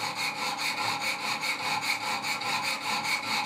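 Knife sharpening on Wicked Edge stones, a Benchmade 940 blade drawn across the abrasive in steady back-and-forth scraping strokes, close and continuous with an even rhythm and no talking.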